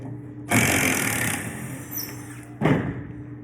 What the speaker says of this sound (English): So I'm going to take that drill.